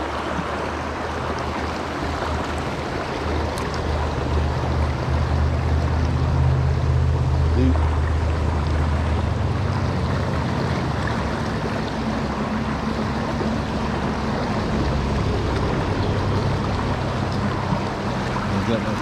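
Steady rushing water of a fast-flowing stream fills the scene, a continuous broad wash of flowing current with a low rumble underneath and no pauses.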